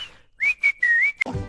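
A person whistles a single sustained tune with a gliding, wavering pitch, loud and close, broken into a few short phrases with brief gaps, followed by a sharp click and some rustling.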